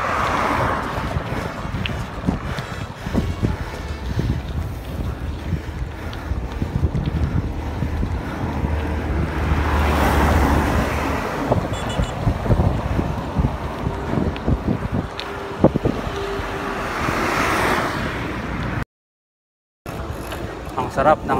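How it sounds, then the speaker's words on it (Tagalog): Gusty wind buffets the microphone during a bike ride, in loud, rushing swells over a steady outdoor rumble, with the roar rising and falling throughout and a brief dropout near the end. "hangin"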